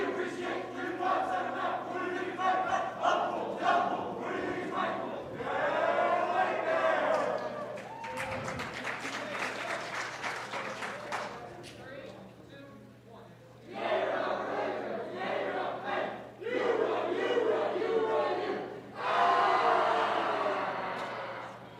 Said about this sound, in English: And here's one last cheer from the guys.